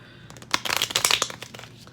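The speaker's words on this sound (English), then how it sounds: "do the second shuffle" A deck of playing cards being shuffled by hand: a quick, crisp riffle burst of rapid fluttering snaps that swells and fades in about a second, close up after a brief quiet moment.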